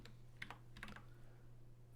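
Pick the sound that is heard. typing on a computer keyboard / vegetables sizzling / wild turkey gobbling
typing on a computer keyboard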